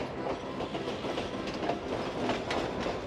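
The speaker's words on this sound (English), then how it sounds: "Trains are passing." Train passing on railway tracks in Peru, a steady rhythmic clickety-clack of wheels over rail joints, faint and distant.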